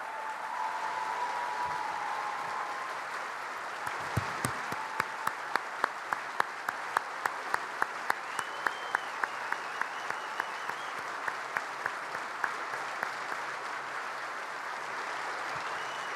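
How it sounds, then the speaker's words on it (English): Steady applause from a crowd at a New York gubernatorial inauguration ceremony fills the whole stretch, many hands clapping together at an even intensity with a few sharper claps standing out. "let's give these heroes a round of applause"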